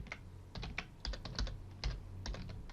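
Keys clatter on a computer keyboard as C# code is typed, in quick irregular bursts of close, light clicks with short pauses, alone without speech.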